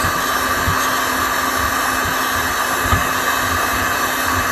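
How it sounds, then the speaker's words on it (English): Heat gun on its lowest setting aimed at resin nodules on a vintage spring clock, a steady close airy blowing roar with faint light knocks underneath. "Take the heat gun down to those nodules."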